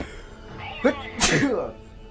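A person sneezes indoors, a short sharp burst following a brief catch of breath, close and fairly loud, with faint background hum.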